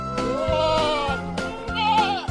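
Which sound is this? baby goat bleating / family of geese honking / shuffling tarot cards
baby goat bleating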